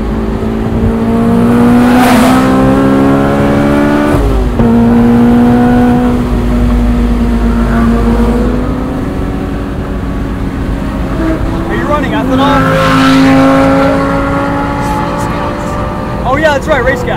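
A supercharged 2003 Honda S2000 running on race gas accelerates hard from the cockpit, its engine note climbing loud and close through rising revs, with gear changes breaking the pull around a third and two-thirds of the way through.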